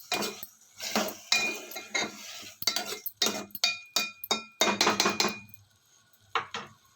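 Tomato and ladyfinger curry stirred in a lidded pot, with a metal spoon scraping and clinking against the pot in a run of irregular, close knocks and rattles that pause briefly near the end.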